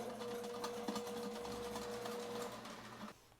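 A Vevor sewer drain cleaner's motor runs forward while feeding cable, giving a quiet, steady mechanical hum with a rapid rhythmic whir that fades slightly near the end.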